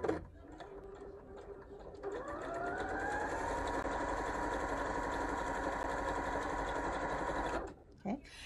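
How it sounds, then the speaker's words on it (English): A sewing machine stitches quilt blocks along a marked line, running in one steady, close whirring burst for several seconds before stopping. "I'm going to sew directly on that line, but then I'm going to turn it around and sew on the second line."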